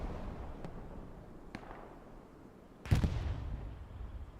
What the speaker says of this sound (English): Oh, new explosions, guys.